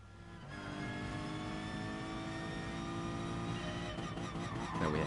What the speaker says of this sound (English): Now we have engine sound.